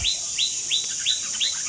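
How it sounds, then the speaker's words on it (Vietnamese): A caged songbird from Cao Bằng sings a string of five bright, rising chirps at an even, regular pace, clear and fairly close over a steady background hiss. "chim của Cao Bằng này thì giọng nó đỉnh cao rồi, giọng cực kỳ hay"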